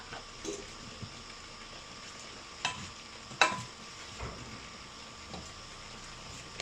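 Hot medicinal oil boils and sizzles in a pot with a steady, soft frying hiss, broken by a few clinks and scrapes as it is stirred and ladled.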